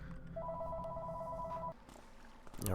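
A telephone rings inside the Thief 2 game, a steady two-tone electronic trill lasting about a second and a half before it cuts off, followed by faint background noise and a brief rustle.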